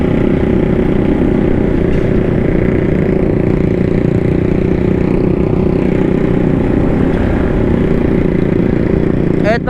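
A Keyway CR152 Scrambler motorcycle engine runs with a loud, steady mid-pitched drone, constant in level, with a brief sharp noise at the very end.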